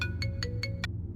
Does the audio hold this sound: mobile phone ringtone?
yes